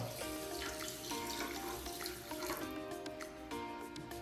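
A steady stream of water pours onto sugar in a pan close by, a continuous splashing hiss with no talking.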